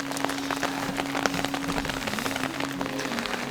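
Rain falls steadily at Bârsana Monastery in Romania, a dense patter of drops on surfaces close by with scattered sharper splashes and a faint tonal hum underneath, no talk.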